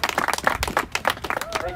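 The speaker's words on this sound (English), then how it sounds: "Another big round of applause for David." Crowd applause at a political rally in Washington DC: a brief burst of rapid, fairly close clapping mixed with a speaker talking over it.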